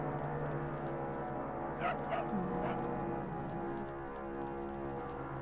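A dog in the game Distraint gives a few short yips and whimpers near the middle, fairly clear over a steady musical drone, while a person talks.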